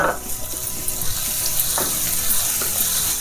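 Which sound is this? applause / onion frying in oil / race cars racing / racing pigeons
onion frying in oil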